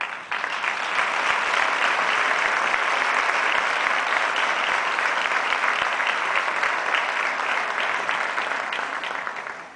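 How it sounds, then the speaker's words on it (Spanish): A concert audience at a church-hosted music event in San Javier gives steady, dense applause, loud and continuous for several seconds before tapering at the end. "Merecidos aplausos para Don Ginés."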